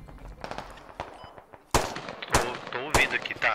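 Sharp gunshots from the military shooter game Squad: a few quieter distant shots, then three loud close reports spaced about half a second apart, with a voice talking underneath.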